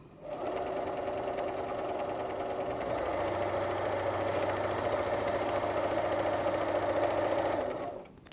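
A sewing machine stitches through the fabric layers of a rice heating pad in one continuous run, humming steadily at close range and deepening slightly partway through before winding down.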